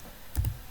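Two quick keystrokes tapped close by on a computer keyboard, entering a value into a drafting program's input box, brief and crisp with no talking.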